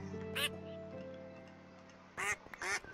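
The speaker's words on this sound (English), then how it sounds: "I'm just petting all the ducks" Ducks in Minecraft give short, bright quacks while being petted, one near the start and a pair toward the end, over a steady low game hum.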